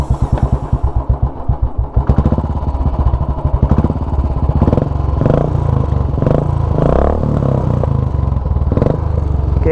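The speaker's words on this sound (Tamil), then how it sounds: "இதுதான் பார்த்தீங்கன்னா தரமான ஒரு சவுண்டை பார்த்தீங்கன்னா ப்ரொடியூஸ் பண்ணுது" Modified Royal Enfield Classic 350 motorcycle running with a loud aftermarket exhaust, close by, thumping at idle and then revving hard with sharp crackles throughout, no talking.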